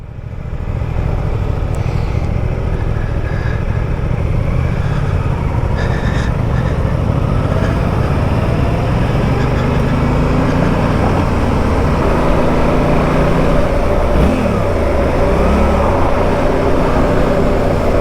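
Suzuki GSX-8R motorcycle ridden on the road with quick-shifter gear changes up and down, a steady loud engine drone under strong wind rush with rising and falling revs throughout.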